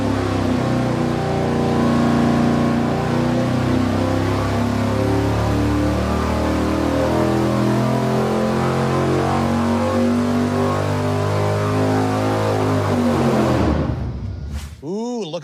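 A dyno-cell engine pull on a pushrod V8 fitted with stiffer 0.135-wall pushrods, a loud sustained roar with rising harmonics through the run, then an abrupt cutoff and falling whine near the end.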